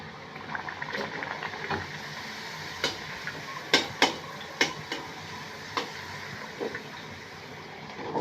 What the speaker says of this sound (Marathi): बऱ्याचशा पुऱ्या मी लाटून घेतल्या आता तळून घेऊया आपण